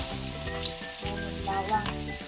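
Onion and garlic sizzle steadily in a hot pan for chicken igado, with a few stirring clatters breaking through the frying noise.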